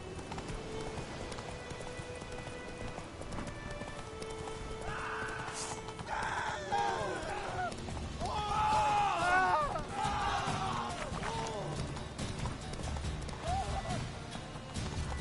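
In The Witcher 3: Wild Hunt, the horse Roach clip-clops at a run and whinnies, with rhythmic hoofbeats under game music, and a few neighs in the middle stretch.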